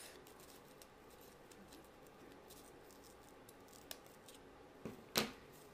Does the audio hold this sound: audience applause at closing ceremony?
no